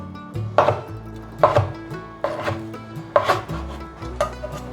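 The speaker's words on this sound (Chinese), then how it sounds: "把鲜香菇切片" A knife slices fresh shiitake mushrooms on a board in about five crisp, evenly spaced cuts, close and clear with nothing else heard.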